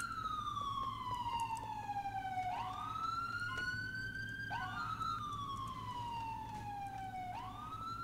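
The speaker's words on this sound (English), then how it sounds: "that siren first is killing me, so I'm gonna shut it off." A police car siren in the video game GTA IV wails in long rising and falling sweeps, repeating several times over a low, steady engine rumble.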